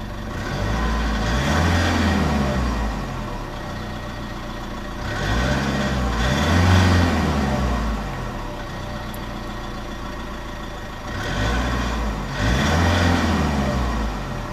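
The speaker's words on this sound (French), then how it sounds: "on va écouter la sonorité moteur maintenant de cette voiture" A 2002 Mercedes-Benz E220 CDI W210 diesel engine, heard close up, idles and is revved three times, with a steady low clatter rising and falling in even swells.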